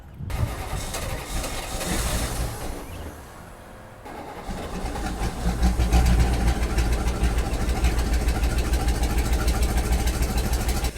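An abandoned yacht's engine cranks and sputters for several seconds, pauses briefly, then fires up into a loud, steady rumbling idle with a low knocking throb.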